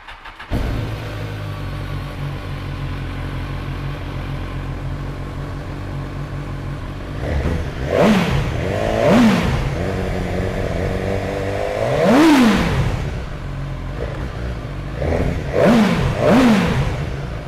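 A BMW S1000R motorcycle with an HP exhaust can starts up and idles with a throaty rumble, then is revved sharply several times, each rev rising and falling quickly.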